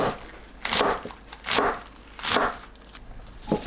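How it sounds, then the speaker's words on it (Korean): Knife slicing napa cabbage into 1 cm strips: four crisp crunching cuts at a slow, even pace, close and fairly loud, with a short final tap, no talking. "알배추를 1cm 간격으로 썰어주세요."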